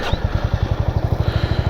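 A motorcycle engine runs at idle after a cold start, a close, rhythmic thumping pulse of exhaust beats repeating evenly, with no talking.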